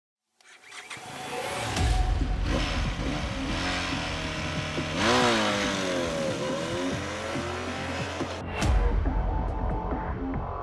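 Benelli 502C twin-cylinder cruiser motorcycle engine starting up and running, a buzzy rumbling note with rising and falling revs, a swell of throttle midway and another sharp rev near the end, heard close without talk.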